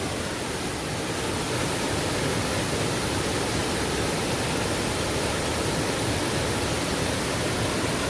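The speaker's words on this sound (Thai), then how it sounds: "น้ำตกผาลาดที่ก็ค่อนข้างใหญ่นะครับ ไม่ไม่ไม่ได้เล็กเลย" Pha Lad waterfall in Wang Dong, Kanchanaburi, swollen with reddish flood water, roars as a loud, unbroken broadband rush that fills the whole clip, close and steady with no voices.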